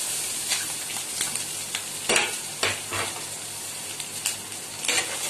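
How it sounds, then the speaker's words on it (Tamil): Onions frying with cloves, cinnamon and curry leaves in hot oil for a mutton pepper fry, with a continuous close sizzle broken by repeated scraping strokes of a stirring spoon. "வெங்காயம் லைட்டாக வதங்கினா போதும்"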